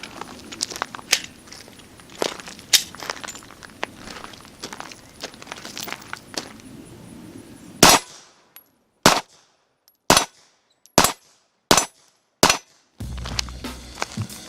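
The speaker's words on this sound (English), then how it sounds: "First 6 rounds fired." Glock pistol fitted with an Apex trigger, fired outdoors at a shooting range: six sharp, loud reports spaced about a second apart, following a stretch of quieter clicks and handling noise.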